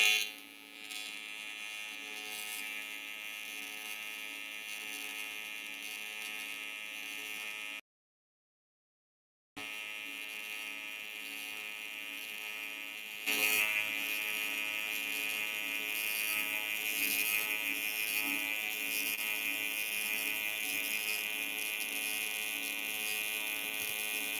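Welding buzz while joining sheet metal or cast aluminum, running dirty and contaminated: a steady electric hum with a sharp gap of silence partway, then resuming louder and harsher.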